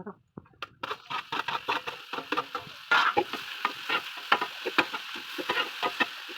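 Chicken masala cooks in a pan with onion, ginger and tomato, stirred so a spoon scrapes and clatters in quick, uneven strokes over a soft frying sizzle, close up and without speech.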